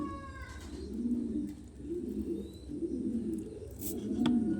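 Caged pigeons coo in a loft, their low rolling calls coming in repeated bursts close by, with a few faint chirps above them.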